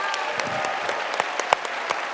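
A conference audience applauding, dense steady clapping from many hands filling the room for a couple of seconds.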